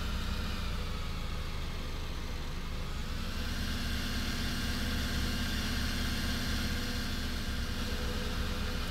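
Tractor engine in Farming Simulator 19, a Black Beauty or Fendt model, idling and running steadily at close range with a continuous low mechanical drone and no speech.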